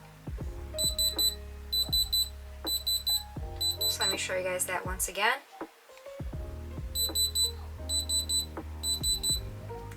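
Bursts of high electronic beeps from a diamond tester checking a moissanite ring repeat in quick groups, pausing midway for a louder rustle, while a voice speaks over them.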